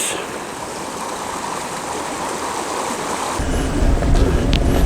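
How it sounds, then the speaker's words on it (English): Steady rushing water from a small waterfall on Tischer Creek in Congdon Park, Duluth, Minnesota, a continuous broadband wash that swells slightly louder toward the end. "A little waterfall there."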